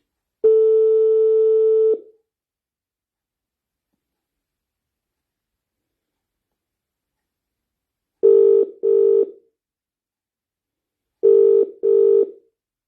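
Telephone call-back tones: one long steady tone, then after a pause two pairs of short beeps spaced a few seconds apart, clear and alone with no talking.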